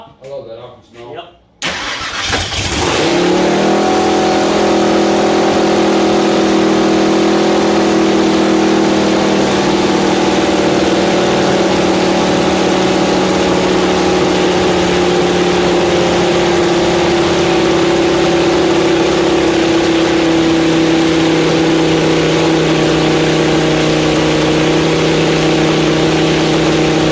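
A 1000 hp blown small-block Chevy in a front-engine dragster fires up for the first time: a brief crank, then the engine catches and holds a loud, steady, close roar with slight shifts in pitch for over twenty seconds.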